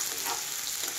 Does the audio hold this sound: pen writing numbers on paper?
no